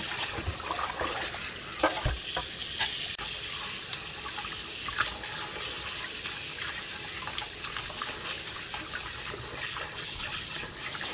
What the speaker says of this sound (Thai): จากนั้นก็เปิดน้ำจากก๊อกค่ะ ล้างเลยค่ะ ล้างไปเรื่อยๆนะคะ จนกว่าน้ำจะใสค่ะ